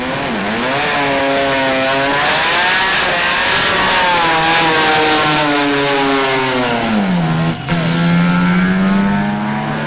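The Maztech Mazda RX3 pro street rotary drag car from Melbourne runs loud and close, its high, raspy rotary engine wailing continuously. The pitch rises and sags as it revs, with a brief dip near the end.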